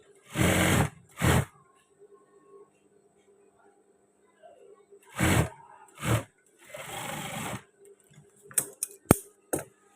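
A sewing machine stitching trousers runs in several loud, close bursts of steady whirring, with a few sharp clicks near the end. Quiet pauses fall between the bursts.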